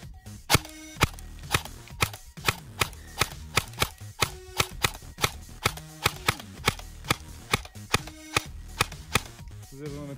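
A GG Raider airsoft rifle fires single shots of 0.20 g BBs through a chronograph, sharp close cracks repeating roughly every half second across the stretch, with no talk.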